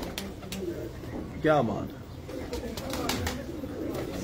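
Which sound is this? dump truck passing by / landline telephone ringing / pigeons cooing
pigeons cooing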